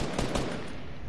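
A quick, close burst of rapid gunfire rattles out during a squad shooting game, brief and loud.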